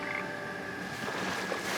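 A frog croaks outdoors near water in a brief, close call over steady background hiss, with no talking.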